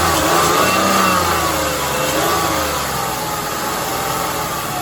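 Ford six-cylinder engine running loud and close, a steady rough roar that rises slightly as if revved, then settles, with no voices.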